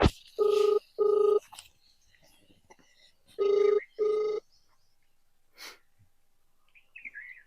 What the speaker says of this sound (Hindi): मैं अभी फ़ोन कर रहा हूँ